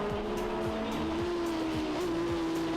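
Honda CB650 and CBR motorcycles race on a track day circuit, a steady loud engine drone with a rising pitch and rhythmic pulses as the bikes pass, no voices.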